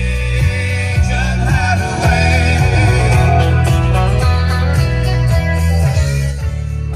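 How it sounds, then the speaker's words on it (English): Music with a strong bass line and melodic vocals plays loudly and continuously from the Bose sound system of a Cadillac Escalade EXT, full and rich throughout. "That is a Bose sound system."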